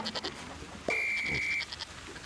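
A goat in a video game lets out a single drawn-out, nasal bleat lasting under a second. It sits over quieter game background sounds, with no talking.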